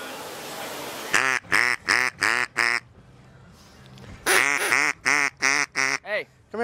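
A man imitates duck quacks with his voice to call ducks, giving two loud nasal bursts of four or five rapid quacks each, close up with a short pause between them.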